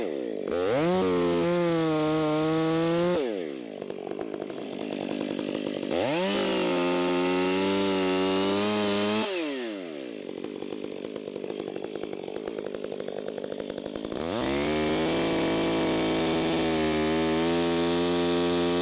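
A chainsaw cuts the face notch on a leaning tree in three loud, sustained bursts of high, buzzing engine whine, each rising and bogging as the chain bites, separated by brief idle drops, with no talk.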